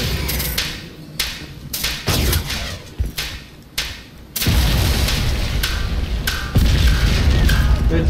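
A heavy in-game explosion in the shooter Crysis 3 lands as a deep booming burst, followed by a sustained roaring rumble and a second loud surge near the end, with earlier thuds and shots scattered before it.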